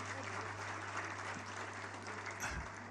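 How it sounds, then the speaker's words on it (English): A crowd claps for the senators at a devolution conference in Kenya, a faint, distant wash of steady applause over a constant low hum, with no clear voices. "Let's give a round of applause to them."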